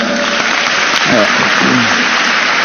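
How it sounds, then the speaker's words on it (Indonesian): Students at an Islamic boarding school clap for a classmate, a loud, dense, continuous burst of applause with a voice audible briefly through the middle. "Beri tepuk tangan buat Adam."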